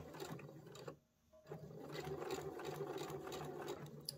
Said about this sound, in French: j'ai mis ma vitesse au plus lent et je viens coudre, je le répète, à 5 mm du bord, bien régulièrement